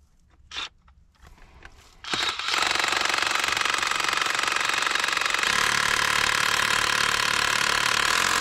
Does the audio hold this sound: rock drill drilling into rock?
yes